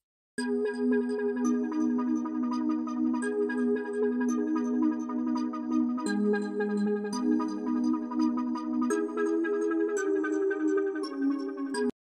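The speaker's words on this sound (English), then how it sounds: "It is actually an ARP, which I turned into a pad." A sustained synthesizer pad made from an arpeggio on an Arturia SQ80 plugin, with a shimmering, arpeggiated texture, notes blending into a steady, continuous chordal wash, moderately loud throughout.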